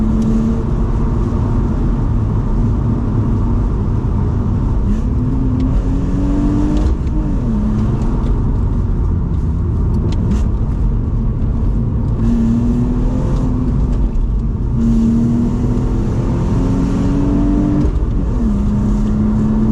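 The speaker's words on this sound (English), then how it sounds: "This might be one of the best 3-litre straight sixes I've ever sat in." A 2002 BMW 330Ci E46's 3-litre straight-six engine revs up and down in repeated rising and falling pulls, loud and close, with a deep throaty drone and no talking.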